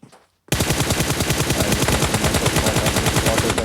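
Rapid automatic gunfire in PUBG on the Miramar desert map, a brief quiet then a sustained, loud burst of evenly spaced shots running to the end.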